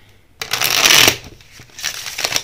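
Tarot cards are riffled and shuffled close by for a reading, giving a quick burst of crisp flutter followed by a softer second shuffle, with no talking.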